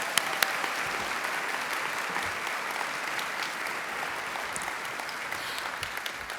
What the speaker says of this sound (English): Let's honor them with a round of applause.